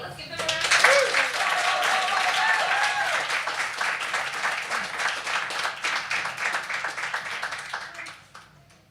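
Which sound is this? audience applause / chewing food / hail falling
audience applause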